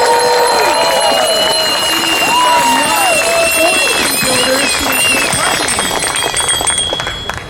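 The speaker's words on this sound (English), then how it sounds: "So a big cheer for that." A protest crowd at a rally to save bike lanes at Christie Pits cheers and whoops loudly, a sustained mass of voices with whistles and shouts, with a speaker talking over it.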